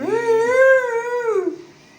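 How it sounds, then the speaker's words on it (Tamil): A single dog gives a long, rising and falling howl, close and loud, lasting about a second and a half before it fades into quiet. "நாய் கத்துது"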